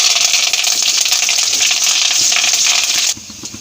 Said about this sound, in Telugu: ఇప్పుడు కరివేపాకు కూడా వేస్తున్నానండి.